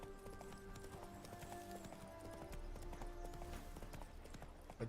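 Rhythmic hoofbeats of the horse Roach galloping in The Witcher 3 game, a continuous quick clip-clop over low game ambience, moderately close and fairly quiet.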